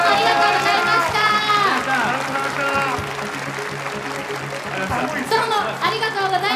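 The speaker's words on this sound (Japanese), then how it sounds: "本日のゲスト、スリムクラブのお二人に皆様大きな拍手をお送りください。" Audience applause at a Nintendo World stage show greeting the comedy duo Slim Club as guests, sustained clapping mixed with a host's voice and lively talk throughout.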